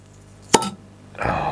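A flip-top swing-stopper bottle of Bolten Ur Alt beer is levered open with one sharp pop, followed after a pause by a soft fizzing hiss of escaping gas, close by with no talking.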